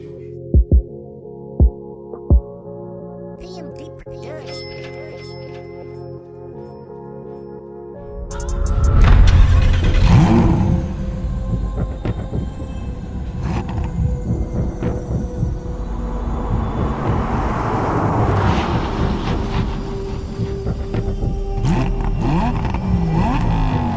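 Video game race between a McLaren 570S and a Lamborghini: engines roar up loudly after a quiet start with a few clicks, then sustained revving and engine drone continue to the end.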